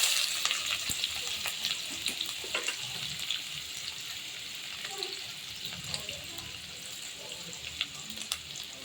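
Onion and curry leaves frying in oil in a home kitchen, a steady soft sizzle with occasional crackles and light stirring, moderately quiet and continuous throughout.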